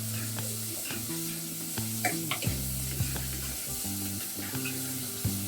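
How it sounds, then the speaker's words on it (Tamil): Tomatoes sauté in a pan for a fish curry, with a soft, steady sizzle and scattered stirring taps over a low tonal hum, close and quiet, with no voices. "அதை வதக்கிடலாம்."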